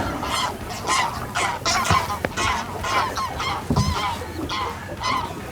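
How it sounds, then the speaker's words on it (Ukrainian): Wild geese honk repeatedly in a noisy outdoor chorus at a landscape park in Poltava Oblast, Ukraine, overlapping calls rising and falling continuously at moderate distance. "Дикі гуси і не хочуть улітати, диви."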